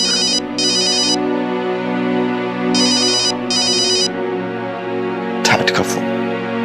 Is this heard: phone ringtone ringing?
yes